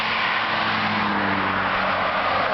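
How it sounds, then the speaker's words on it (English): A couple of cars pass on a wide rural road in Pennsylvania, heard from a bicycle as a steady tire and engine rush with a broad whoosh, fairly loud over constant wind. "Couple cars."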